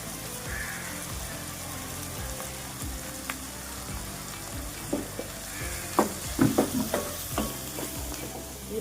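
Curry leaves frying in oil with onions and green chilies in a pan, giving a steady soft sizzle over a low rhythmic background thump, then a cluster of louder spatula scrapes and crackles near the end.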